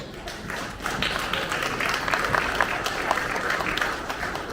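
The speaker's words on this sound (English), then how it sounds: "can we please have a round of applause?" An audience at a talk breaks into applause, starting softer and swelling into a full, steady round of many hands clapping that holds evenly to the end, with no talk over it.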